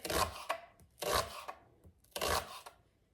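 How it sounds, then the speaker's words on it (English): A knife chops onions and minces garlic on a board, in three quick bursts of rapid close chopping with short pauses between them. "I am going to cut up some onions, mince some garlic"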